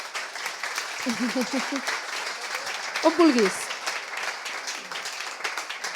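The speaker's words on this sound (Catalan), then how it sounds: "Rebeu-la amb un fort aplaudiment," An audience at an arts and science projects event applauds to welcome an artist to the stage, continuous clapping from many hands under brief bursts of a presenter's voice.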